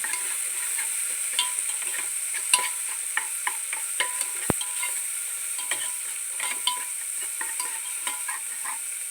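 Ginger garlic paste fries in a pan for a potato, cabbage and pea curry, giving a steady close sizzle broken by scattered scraping clicks as it is stirred, with no voices.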